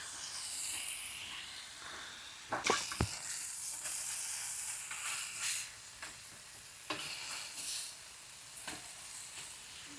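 Fish coated in masala fries in hot oil, a steady bright sizzle with sharper crackles and spatters as pieces are added and stirred, close and fairly loud throughout.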